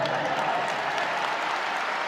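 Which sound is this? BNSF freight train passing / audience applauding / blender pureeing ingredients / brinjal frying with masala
audience applauding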